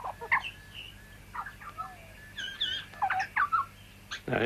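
Butcherbird mimicking the calls of other bird species, including jungle fowl, giving varied whistles, chirps and trills in short bursts at moderate distance, with a louder burst near the end.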